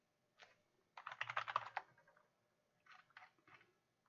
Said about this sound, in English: I was just typing it too fast.